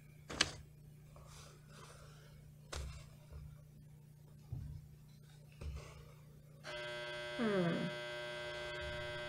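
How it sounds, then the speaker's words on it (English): A clothes dryer runs in the room with a steady low hum throughout, broken by a few soft thumps and a brief tonal whine near the end. "That's my dryer."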